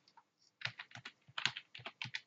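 Rapid clattering keystrokes on a computer keyboard, about a dozen close, crisp clicks in an uneven burst after a couple of faint taps, with no talking.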